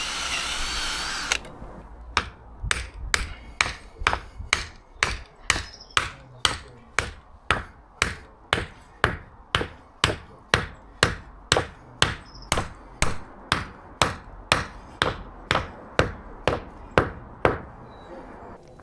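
Wooden stakes cut from batten offcuts are hammered into the ground to pin a concrete shed-base form, giving a long steady run of sharp, evenly spaced blows, close and loud with no talk.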